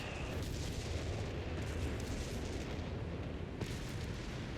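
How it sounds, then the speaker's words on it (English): Artillery shells striking a 17-pounder anti-tank gun in Company of Heroes 3, a dense rumbling barrage of distant booms and blasts, one sharper crack near the end, with no voices. "Artillery hitting the 17-pounder"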